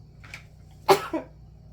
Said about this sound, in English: That was a sneeze.